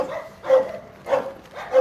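A rescue dog barks three times in a measured rhythm, each bark loud, close and short, with quiet gaps between them.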